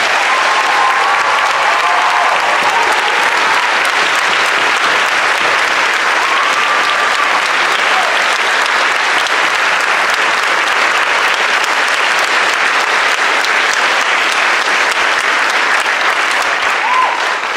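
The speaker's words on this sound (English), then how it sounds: "We'd like to give our guests on stage a standing ovation." A school auditorium crowd at a senior class night gives a standing ovation to guests on stage, a loud, dense wash of clapping that continues unbroken throughout, with a few faint voices beneath.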